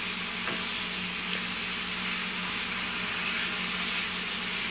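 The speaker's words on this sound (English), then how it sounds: "we're going to cook that ground beef in its own fat with some garlic powder" Ground beef cooking in its own fat with garlic, chili and onion powder, giving a steady, even sizzle and hiss throughout, with no talking.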